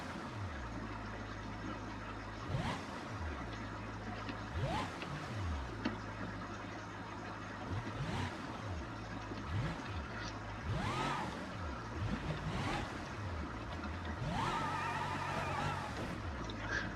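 An off-road vehicle's engine in BeamNG reverses and then revs up repeatedly, its low drone rising and falling in several surges, steady and fairly close, with no voices.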